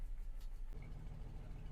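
A 2000 GMC 1500 short-bed truck engine with gummy fuel injectors idles quietly and evenly, a low steady rumble heard faintly from close by.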